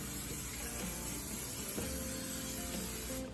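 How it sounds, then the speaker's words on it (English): Cooking spray aerosol sprayed into a regular metal muffin tin, a steady close hiss lasting a few seconds over a quiet kitchen, ending abruptly. "Get a regular muffin tin and spray it with cooking spray."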